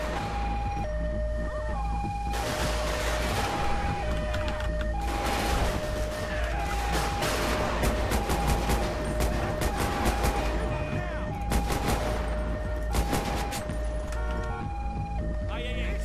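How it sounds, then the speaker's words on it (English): Gunfire in GTA 5 during a police escort mission, sharp shots under a continuous wailing emergency siren and car noise, with some talk over the top. "Shots fired, shots fired."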